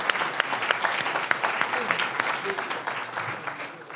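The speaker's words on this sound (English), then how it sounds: "So let's give them all a warm round of applause." An audience at a keynote address at a student convention breaks into sustained applause, dense clapping at steady volume throughout with no talk over it.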